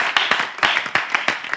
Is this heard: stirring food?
no